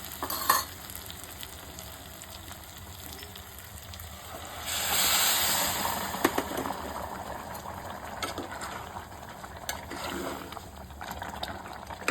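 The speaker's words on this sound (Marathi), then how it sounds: "आता ह्यात आपण आता गरम पाणी टाकूया" Hot water pours into a pressure cooker of spiced prawn rice with a burst of hissing and sizzling, then settles into continuous frying sizzle with occasional stirring scrapes.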